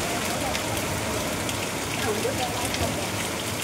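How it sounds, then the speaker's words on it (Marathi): Rain falling outdoors, a steady dense patter with a constant hiss and no pauses, with people talking faintly in the background. "गार आहे पाऊस गार."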